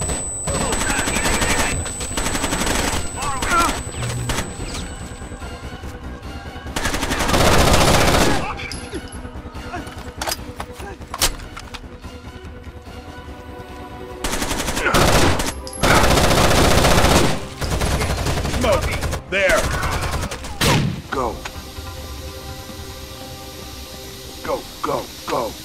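Gunfire in the tactical shooter game Rainbow Six Vegas 2, with loud bursts of shots and heavy blasts rising and falling over about 25 seconds, mixed with game radio chatter and voices talking.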